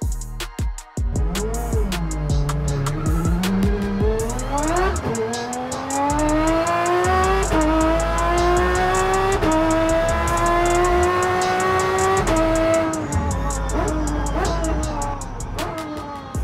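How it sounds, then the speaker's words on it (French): A naturally aspirated 7-litre V12 supercar engine with 820 horsepower revs hard and continuously, its pitch sweeping upward through several loud, sustained climbs with brief dips between gear changes, heard up close with no talking. "Ce monstre est équipé d'un moteur V12 de 7 litres, naturellement aspiré, qui produit 820 chevaux"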